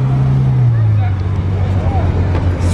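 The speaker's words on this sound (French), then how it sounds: "Un autre convoi Ferrari." Ferrari convoy passing, a Portofino among the cars, with loud steady low engine drone throughout over a busy background of crowd chatter.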